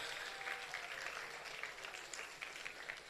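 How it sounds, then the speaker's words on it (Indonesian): A crowd at an Islamic religious gathering applauds, a faint, distant, even patter of many hands with no gaps. "Tepuk tangan untuk Al Hayatul Islamiyah"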